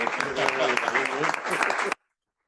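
Applause at a book launch for José María Michavila's essay "La Edad democrática" rings out as a brief, dense patter of clapping from the audience, mixed with voices, then stops abruptly.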